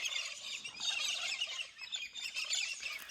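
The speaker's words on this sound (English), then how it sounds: "The epic bird life." Many wild birds at an outback waterhole in the Australian bush chirp and twitter continuously at once, a busy high-pitched chorus at moderate distance with no voices.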